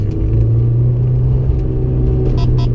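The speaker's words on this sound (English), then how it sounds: "That's the Honda S2000." A Honda S2000 sports car engine running with a steady, close, low rumble that holds an even level throughout, with no voices over it.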